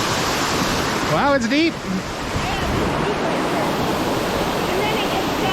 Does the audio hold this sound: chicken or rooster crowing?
no